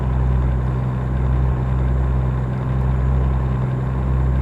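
A Peterbilt 579 truck with a 510 HP engine in American Truck Simulator drones steadily at low pitch, a continuous deep engine hum with slight rhythmic pulsing and no speech.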